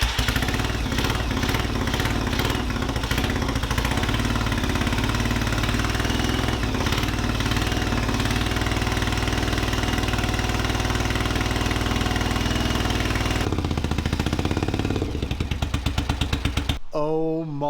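A Yamaha Virago motorcycle engine starting for the first time after final assembly with choke applied, then idling steadily with a loud, close, continuous rumble that drops off sharply near the end.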